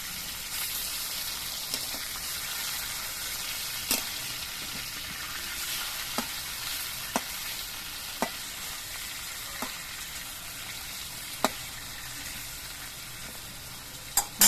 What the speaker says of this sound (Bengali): কিছুক্ষণ বাদে আমি ঢাকনাটা খুলে এনেছি আর মাছের পিসগুলো আমি উল্টে দেবো